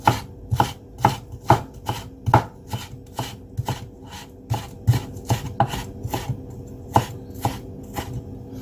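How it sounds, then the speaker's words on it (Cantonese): A knife chops thin slices of ginger into fine shreds on a board, about twenty sharp, close, evenly spaced strokes in a quick steady rhythm, with no speech. "切幾片好薄嘅薑，跟住咧就盡量切幼絲"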